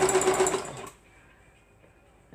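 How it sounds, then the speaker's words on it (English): A sewing machine stitching a beginner's quilt whirs loudly and steadily for about a second, then stops, leaving near silence before a faint sound at the end. "And we're going to start sewing it."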